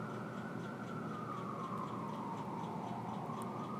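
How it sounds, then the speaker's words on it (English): Police sirens wail in the distance, a faint rising and falling tone that runs steadily through the whole stretch over a constant background hum, with no talking. "you even hear the sirens going on now"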